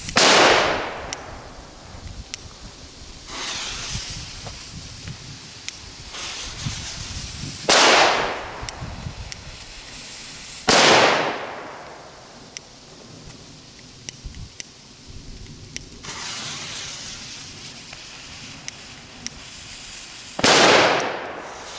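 Small firecrackers set off outdoors during a fireworks shopping trip in the Czech Republic, with about six sharp, loud bangs spread irregularly over the stretch, each trailing a brief crackling decay amid quiet ambient noise.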